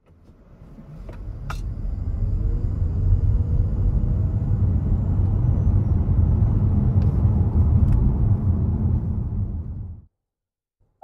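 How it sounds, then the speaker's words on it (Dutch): Toyota Mirai hydrogen fuel cell car with a 180 hp electric motor driving along, a steady low rumble of road and tyre noise building up and holding for about ten seconds before cutting off abruptly. "de auto wordt aangedreven door een 180 pk elektromotor met 300 Nm koppel"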